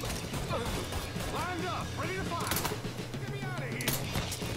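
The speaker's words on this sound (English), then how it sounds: "Sounds like a fucking BB gun, man." Gunshots in Mafia III, thin sharp cracks popping at irregular intervals through a busy scene, fairly close but light in weight, mixed with clattering game noise and tonal sound effects.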